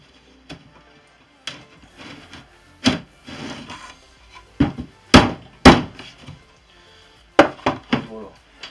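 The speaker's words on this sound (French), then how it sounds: "Un petit coup de maillet si besoin." A wooden mallet gives a few sharp taps to biscuit-jointed wood pieces, close and clear. The knocks come as scattered single and double hits with quiet gaps between them.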